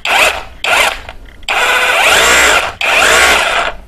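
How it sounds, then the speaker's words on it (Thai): An OSUKA OSRH-26 cordless SDS rotary hammer runs in chisel mode, hammering only without rotation, in four loud, close bursts of rapid buzzing impacts with short gaps between them. "แล้วก็โหมดสุดท้ายโหมดสกัดนั่นเองโหมดสกัดจะไม่หมุนนะครับ"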